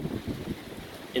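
Strong wind gusts buffet the microphone on an open beach at low tide, a low rumbling roar throughout, with a brief sharper burst of sound at the very end.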